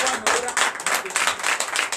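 A Sunday church congregation in Comè, Benin, applauds loudly in surging bursts of clapping mixed with raised voices.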